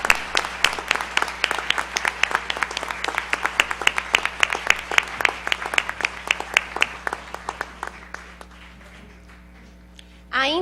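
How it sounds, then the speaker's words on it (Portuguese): An audience at an awards ceremony for a justice prize breaks into sustained applause, dense rhythmic clapping from many hands that gradually thins and fades out toward the end, with a voice starting just as it dies away. "queria pedir realmente um aplauso para esse projeto"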